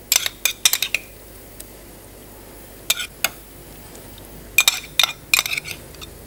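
A utensil spreading cooked mushrooms across a dish for sole à la dieppoise, producing sharp, intermittent metallic clinks and taps in short clusters over a quiet background.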